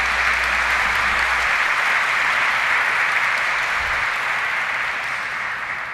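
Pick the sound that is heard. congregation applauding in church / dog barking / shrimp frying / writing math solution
congregation applauding in church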